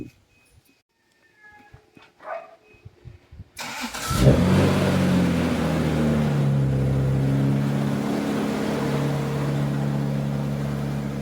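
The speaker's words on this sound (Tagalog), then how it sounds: "Guys, cold start yan ha." A Toyota sports car engine cold-starts after some faint clicks and rustles: the starter catches with a sudden loud burst, then a steady, rough, elevated idle rumbles on close by, with no talking.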